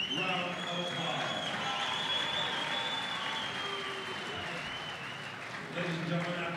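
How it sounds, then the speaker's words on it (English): Crowd applause for two boxers at the end of a six-round fight, heard as a steady, dense wash of clapping and cheering that carries through the whole stretch, with a slight dip before swelling again. "let's give both fighters a big round of applause"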